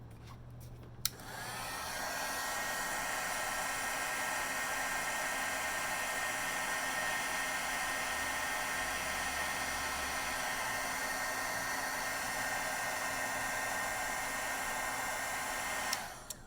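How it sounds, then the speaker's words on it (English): A heat tool blows steadily at close range while heat setting clear embossing powder, a continuous loud airy roar that switches on after a click and cuts off at the end. "I'm going to use some clear embossing powder on this again. And I'm going to heat set that one more time."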